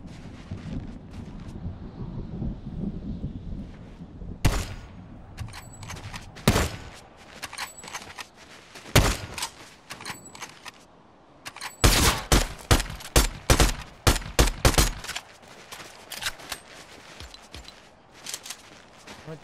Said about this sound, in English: Dad started shooting